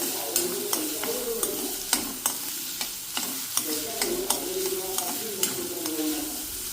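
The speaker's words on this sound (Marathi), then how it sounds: "आता आपण हे छान एकत्र करून घेऊया आणि कांदा चांगला गुलाबी रंगापर्यंत आपल्याला शिजून घ्यायचा आहे" Chopped onions fry in a hot pan while a utensil stirs and scrapes in steady, repeated strokes over a continuous close sizzle, cooking for a cashew-nut vegetable dish.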